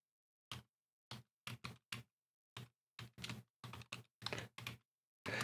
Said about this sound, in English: I despise this keyboard, okay? Since the other one died. This one is loud as all hell.